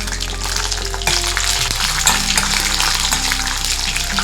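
Three green and three dry red chillies fry in a pan with a loud, dense, close sizzle, over a low steady hum that shifts partway through.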